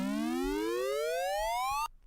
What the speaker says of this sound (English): It's a rise. It's a rising sound effect.